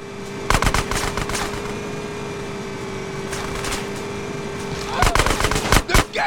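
Video game gunfire from GTA San Andreas as a sewer gate is shot out: a few sharp bursts near the start, then a steady hum, then a cluster of loud rapid shots near the end.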